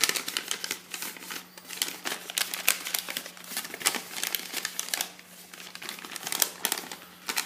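Paper is folded into an origami digitalis flower, with steady close crinkling and crisp rustles as the sheet is creased and turned, continuing without a break and with no speech.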